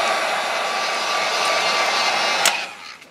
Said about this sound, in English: Get out the heat gun.